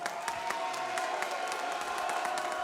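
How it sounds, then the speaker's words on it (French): An audience at an amateur cage fight night claps and cheers, with steady mixed applause and a few sharper claps over a hall-wide crowd noise, heard from a distance. "Vos applaudissements."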